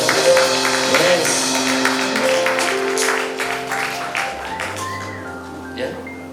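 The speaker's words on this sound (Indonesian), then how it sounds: "Kita berikan tepuk tangan Bapak Sister" Congregation applause during a church wedding blessing, clapping spread across the room beneath sustained music with steady tones, fading toward the end as the music shifts.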